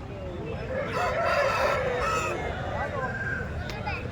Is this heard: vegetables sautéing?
no